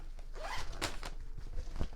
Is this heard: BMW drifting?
no